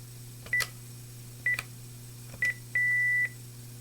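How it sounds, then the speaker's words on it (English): Key-press beeps from a Panasonic TGP desk phone while deleting missed calls: three short tones about a second apart, then a longer steady beep, heard clearly over a low background hum. "we can press the menu key and we can delete all of our missed calls."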